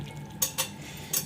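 Maggi noodles being stirred in a pan, with a few soft scraping clinks of the utensil against the metal, three brief strokes over a quiet background.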